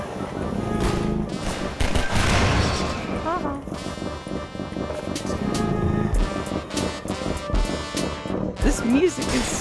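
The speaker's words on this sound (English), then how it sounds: "Stop shooting me." Gunfire aimed at the player in Half-Life 2 rattles in repeated bursts alongside game music and effects, while a person talks over the shooting throughout.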